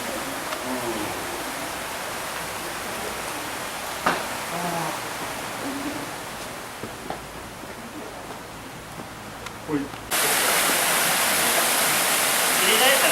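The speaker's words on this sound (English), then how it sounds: "Waterfall." A Japanese waterfall in the San'in region gives a steady broadband rush with faint voices and small knocks at first, then the roar swells much louder and fuller for the last few seconds.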